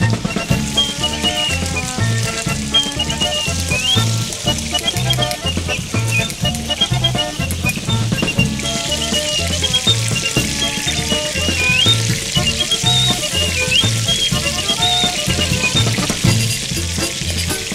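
Food frying on both sides in a red-hot pan gives a steady, continuous sizzle throughout, with what seems to be music or other tonal sound running underneath.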